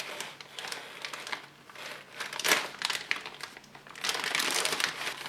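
Heavy Swedish military ration bag of retort pouches torn open at its notch, with close crinkling and crackling of tough plastic in uneven bursts, loudest near the middle and end.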